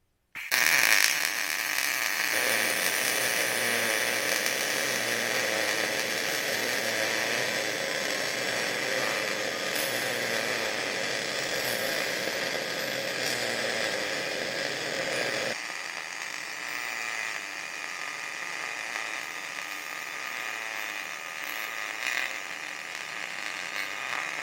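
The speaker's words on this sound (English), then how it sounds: "I can just pick up the TIG torch and tack, and then come right behind it with the MIG" A multi-process welder tacks with a TIG torch and then runs MIG welds, giving a steady close crackling hiss that drops to a quieter, thinner sizzle partway through, with no talking.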